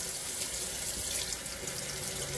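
Warm water runs steadily from a tap over a soapy shirt being rinsed to lift a mustard stain, a constant close splashing hiss with no pauses.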